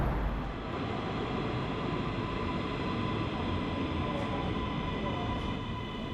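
A Sofia metro train runs with a steady, loud rumble and rail noise that holds evenly throughout, with no voices over it.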